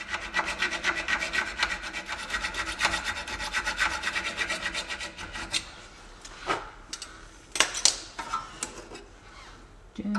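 Cutting through a suspension nut during a front suspension teardown on a Jaguar S-Type gives a close, steady rasping of rapid metal strokes, then thins out into sparser, separate scrapes with brief pauses.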